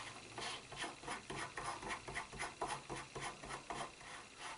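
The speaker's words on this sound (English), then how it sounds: "so now I'm going to put the new barrel nut on" A new barrel nut is threaded onto an AR rifle's upper receiver during a free-float quad rail install, giving close, rhythmic rasping and scraping strokes that repeat steadily with no talking.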